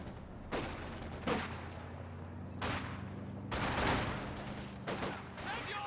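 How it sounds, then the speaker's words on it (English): Soviet Conscripts' rifle fire in Company of Heroes 2 crackles in several sharp volleys, about six bursts spaced irregularly over a low steady battlefield rumble, with one longer sustained burst in the middle. "Conscripts firing away."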